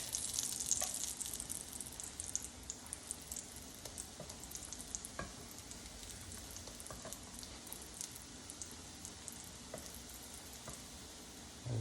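Plantain slices fry in hot oil with a constant fine sizzle and scattered popping crackles, close and fairly quiet, without anyone speaking.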